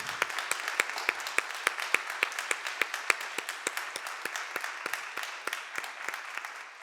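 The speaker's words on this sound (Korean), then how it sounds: "하나님께 영광의 박수 올려드리도록 하겠습니다." A church congregation at a Sunday youth service claps together in a steady, even rhythm, a long run of sharp hand claps in a reverberant room with no voices.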